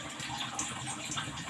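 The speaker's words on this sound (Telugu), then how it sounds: "నేను 4 అప్పడాలు, మామూలు అప్పడాలు, మజ్జిగమిరపకాయలు ఫ్రై చేస్తున్నాను" Buttermilk chillies frying in hot oil give a steady, close sizzle and hiss that runs evenly throughout, with no one speaking.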